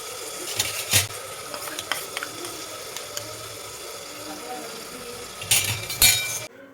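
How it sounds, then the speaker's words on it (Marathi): A spoon stirs and scrapes spinach paste frying in oil in a pan for palak rice, with a steady sizzle underneath and louder scraping knocks near the start and end. "आता आपण हे व्यवस्थित मिक्स करून घेऊया व तेल सुटेपर्यंत छानपैकी परतून घेऊया तेलामध्ये"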